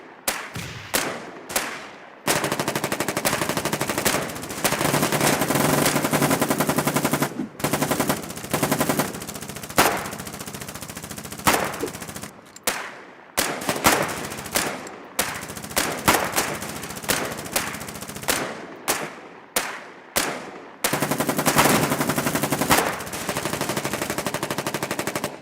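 Sustained machine gun fire in the war game Foxhole, laying down suppressing fire: long, loud, continuous bursts broken by brief pauses and shorter staccato volleys, dense and close, with no talking.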